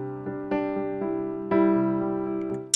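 A piano track playing in Logic Pro X, with sustained chords struck at a steady pace, notes ringing into each other, clean and alone without any voices.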